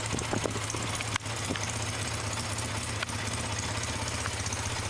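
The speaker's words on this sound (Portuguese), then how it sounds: "Essa moto muito linda é a Yamaha TX750" A 1970s Yamaha TX750 motorcycle, its air-cooled OHC twin-cylinder engine, idles with a steady low rumble and even pulsing throb close by, without speech.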